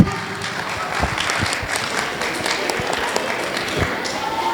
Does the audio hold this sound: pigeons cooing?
no